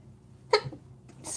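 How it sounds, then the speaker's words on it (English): A single small, brief sneeze from one person, sharp and fairly close, followed by a short breath in otherwise quiet surroundings. "excuse me, that was a little sneeze."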